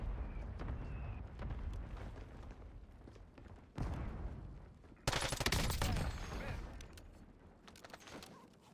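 Gunfire and mortar impacts in a Warzone match, with a steady patter of rifle shots and two sudden heavy blasts, the second loudest, followed by a lingering rumble as shooting continues.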